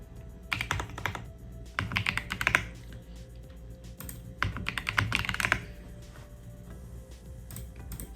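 A white iRocks K85R mechanical keyboard is typed on up close. Two bursts of rapid, clicky keystrokes are separated by quieter pauses, and no one speaks.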